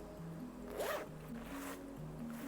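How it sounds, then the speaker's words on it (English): Zipper on a cream sling bag pulled open in two or three quick close rasps, quiet room, no talking. "One zip. Let's open this."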